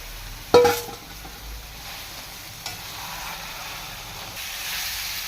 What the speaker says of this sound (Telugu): చికెన్ అంతా బాగా ఫ్రై చేసుకోవాలి.